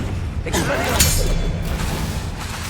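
In the Hogwarts Legacy video game, an Expelliarmus disarming spell is cast, giving a brief whooshing burst with a shattering crack over a busy game background.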